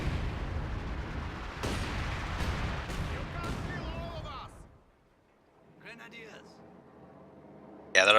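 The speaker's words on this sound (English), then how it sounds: "Artillery coming in on the right-hand flank." Artillery fire in the Company of Heroes 2 strategy game: several heavy booming shells hit in quick succession, loud at first, then fade into quiet battlefield noise before another sharp burst at the very end.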